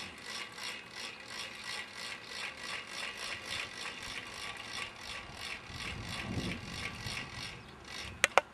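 A SunLackey solar panel mount being cranked down, giving a steady, rhythmic ratcheting click-whir that repeats evenly at close range, ending with two sharp metallic clicks. No voices.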